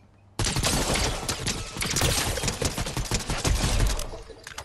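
Rapid, dense gunfire erupts abruptly in a video game match and keeps going almost without pause, loud, close bursts of automatic shots layered over one another for several seconds.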